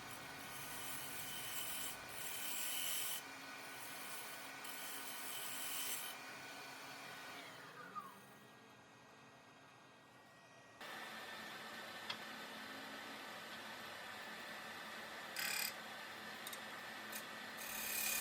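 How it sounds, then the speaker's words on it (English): A 1/2 inch bowl gouge trues up the outside of a wooden lid spinning on a lathe, giving a continuous close scraping and rubbing tone that drops away briefly midway and then resumes steadily. "I'm just going to use my 1/2 inch bowl gouge to true up the outside of the lid."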